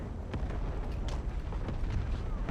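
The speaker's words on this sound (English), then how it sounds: "Those mortars are sure devastating." Heavy mortar blasts in the video game Empire: Total War rumble continuously, a deep roaring barrage with scattered sharper bursts layered over the low thunder.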